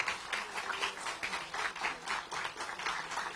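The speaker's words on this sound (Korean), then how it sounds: "뜨거운 격려의 박수 부탁드립니다." Members at a People Power Party assembly in Korea clap in encouragement for a newly elected deputy speaker candidate, the claps falling in fairly even, rhythmic waves of many hands, loud and close, with no talking.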